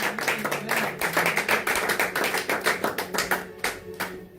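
A church congregation claps in steady, rapid rhythm, loud and close, the sound full and continuous across the whole stretch with a faint hint of voices beneath.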